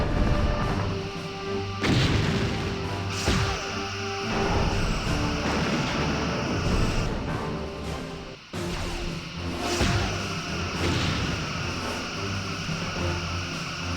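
In the Star Trek Bridge Commander space game, phasers fire on an enemy ship in a loud, sustained roaring barrage layered with booming impacts and crashes, with two sharper blasts standing out.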